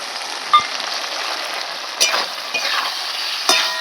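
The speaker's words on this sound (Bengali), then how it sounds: "মশলাটা একটু ভালো করে কষিয়ে নেব" Fennel spice paste with ginger powder and chilli powder sizzling steadily in a pan for an okra curry, with a few brief spatula scrapes breaking through the continuous hiss.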